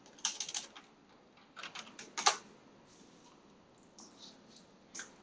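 A computer keyboard is tapped in short clusters of keystrokes while a file name is typed, close but quiet, with pauses between bursts in an otherwise silent room.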